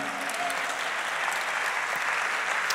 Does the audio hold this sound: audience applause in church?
yes